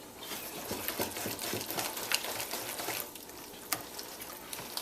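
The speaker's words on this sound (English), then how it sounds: "Give that a quick stir." Spoon stirring a thick cassava pone mixture with raisins in a pot, soft close scraping and wet churning strokes for several seconds, no talk.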